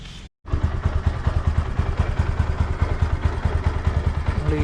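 A motorcycle engine idles with a rapid, steady thumping pulse while its chain is scrubbed with a brush after chain cleaner is sprayed on, with a brief cutout near the start.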